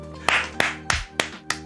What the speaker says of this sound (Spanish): Un aplauso para todos nosotros